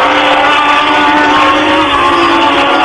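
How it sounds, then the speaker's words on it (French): A Renault-Elf turbocharged Formula 1 engine at the 1979 French Grand Prix, running loud and close in a steady, dense high-pitched drone with no pause, while the turbo engine sputters and falters from fuel starvation. "Le moteur turbo se met à cafouiller"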